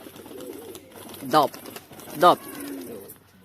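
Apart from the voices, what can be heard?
pigeon cooing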